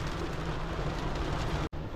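Rain falling outside a van at a Gulf Shores, Alabama campsite, a dense, loud, even hiss that is cut off by a brief dropout just before the end.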